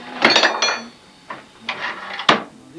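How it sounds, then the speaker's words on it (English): Several sharp metallic clanks ring out from hand tools being struck at a blacksmith's forge, a quick cluster followed by a few spaced, ringing hits, close and fairly loud. "Hammering on."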